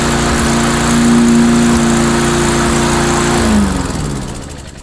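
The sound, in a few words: old lawn mower engine running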